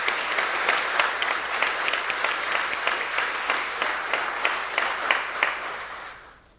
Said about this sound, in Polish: Teraz jest pora na gromkie oklaski.